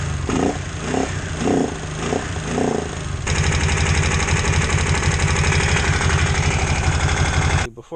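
Kawasaki Brute Force 750 quad's engine running with a fuel leak, a loud, steady throbbing idle close by that picks up into a busier, more even drone partway through, then cuts off at the end.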